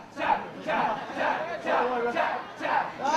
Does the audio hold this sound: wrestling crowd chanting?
yes